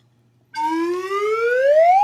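A voice imitates a diesel engine revving, a steady droning tone that climbs gradually in pitch, heard alone and fairly loud.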